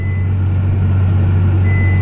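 Inside a Ferrari F12, short high electronic beeps chirp repeatedly on engaging reverse gear, faint over a loud, steady low hum of the idling cabin.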